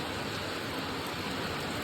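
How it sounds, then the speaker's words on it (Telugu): Dense, steady heavy rain in Madanapalle hisses evenly throughout, a broad continuous wash of sound with no voices. "ప్రస్తుతానికి అయితే కొంచెం భారీగానే వర్షం వచ్చేసి"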